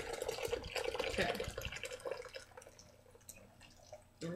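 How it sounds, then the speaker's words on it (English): Boiling water poured from a kettle into a pot for sweet iced tea, a quiet splashing gush that thins to trickles and drips. "You can do it in a pot if you have to, or if you have a kettle, that's great. Just dump it in."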